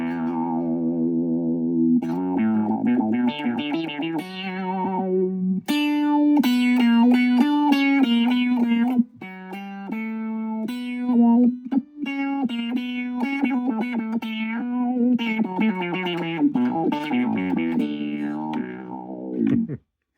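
Guitar played through a Vox Mini Go 3 practice amplifier with its octave effect engaged, layered thick distorted tones in a busy melodic line, loud and close, with brief gaps between phrases.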